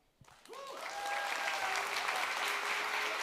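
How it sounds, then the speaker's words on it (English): Conference audience breaking into applause for a speaker taking the stage, building quickly from a few claps into a full, sustained wash of clapping across the hall, with a brief whistle-like tone over it. "please give a warm applause to the mystery speaker of this conference"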